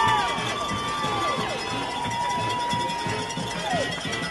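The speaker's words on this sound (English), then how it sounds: "You can hear that home crowd ready to cheer on the Wolverines." Home crowd noise fills the stands at a high school football game, a steady dense murmur of many voices with scattered shouts and whistles throughout.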